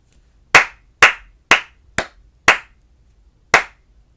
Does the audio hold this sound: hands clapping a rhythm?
yes